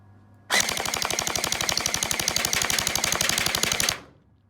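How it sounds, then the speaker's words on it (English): A Kriss Vector V2 airsoft gun fires on full automatic in one continuous rapid burst of evenly spaced shots lasting about three and a half seconds, loud and close, with no talk. "we'll give it a full squirt now, see what sort of rate of fire we get"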